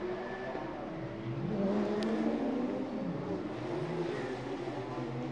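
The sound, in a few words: Porsche Carrera Cup race cars going into the pits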